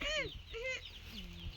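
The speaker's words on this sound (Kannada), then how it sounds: "ಇದೊಂದು ಕೋಳಿ" A chicken on a village farm clucking close by in several short, pitched bursts, with quiet background sound between the calls.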